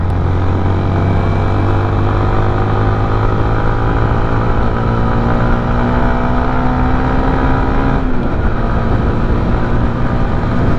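A warm Yamaha Sniper 155 VVA motorcycle engine idles loudly and steadily after a ride, a continuous tonal hum with a brief pitch dip partway through.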